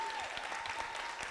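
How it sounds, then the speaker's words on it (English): Audience clapping at a STEM learning talk, continuing for a speaker's host, faint and steady with a few sharper claps standing out, heard at a distance. "I want you to keep the applause going for Jody Green"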